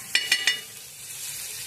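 Butter dropped onto a hot griddle for a cheese sandwich, three sharp crackling bursts in quick succession followed by a soft, continuous sizzle, close and without talk.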